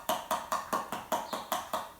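A homemade water drum made from a glass mason jar with a screwed-on metal lid, struck in a steady rhythm of eight hollow, evenly spaced taps about a quarter second apart, close and fairly soft, with the water kept off the lid.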